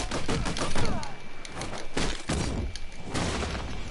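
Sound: gunfire in a video game

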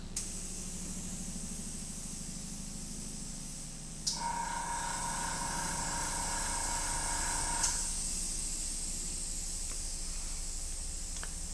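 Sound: airbrush spraying blue paint on a wooden bowl

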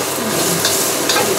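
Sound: stir-frying vegetables and cashews in a pan

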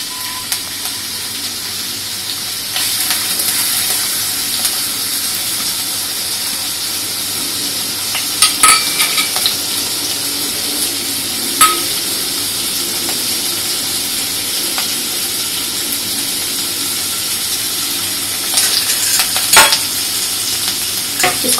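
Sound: soaked lentils frying in oil

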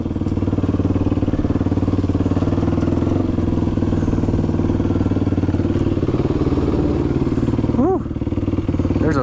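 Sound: motorcycle riding through abandoned waterpark

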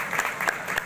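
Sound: audience applause

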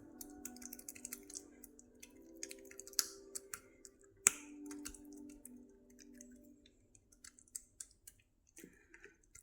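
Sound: patting bottle gourd dough flat by hand

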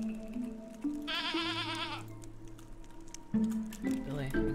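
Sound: goat bleating in Stardew Valley video game

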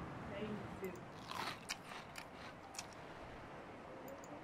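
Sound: crunchy eating sound from a video game

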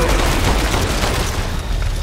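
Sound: gunshots in the video game Resident Evil Village

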